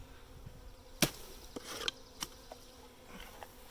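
A faint hum of honey bees buzzing as they are dumped into a new hive, with a few sharp knocks and thuds over the steady drone.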